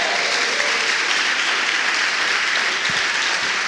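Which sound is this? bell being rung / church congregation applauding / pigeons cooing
church congregation applauding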